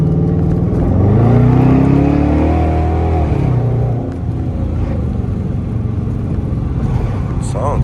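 A 2017 Dodge Charger R/T V8 revs its exhaust up and settles back, a loud low rumble building over the first few seconds and then holding a steadier drone.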